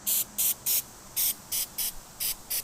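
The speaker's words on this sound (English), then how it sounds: "Just spray it directly right on to the numbers." Eight short bursts of aerosol spray onto painted boat lettering in quick, uneven succession, each a sharp hiss lasting a fraction of a second, close by with no talking.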